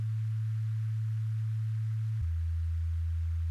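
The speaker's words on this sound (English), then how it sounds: "this is literally just a sine wave in Vital. And it's going through destructor for distortion" A pure sine-wave sub bass from the Vital synth, run through Destructor distortion, holds a steady low tone and then drops abruptly to a lower pitch partway through. It plays alone and without pause.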